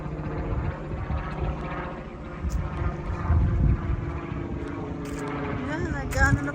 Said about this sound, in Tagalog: Helicopter pa yun.